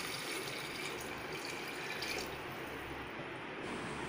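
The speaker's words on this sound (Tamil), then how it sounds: "தண்ணி ஊத்திக்கிறேன் பாருங்க" Water from a small vessel is poured steadily into a pot of village-style potato and brinjal curry, a continuous close splashing rush that lasts throughout without any voices.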